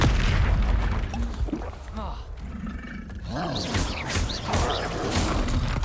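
Booming Confringo blasting-spell explosions from combat in the Hogwarts Legacy video game, with heavy roaring bursts and crashes in a dense, loud game mix while a voice talks over them.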